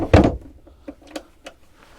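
Big storage drawers under a berth aboard a Princess V50 Deck Saloon yacht slide, opening with one loud thud followed by a few lighter knocks and clicks, near and without talk.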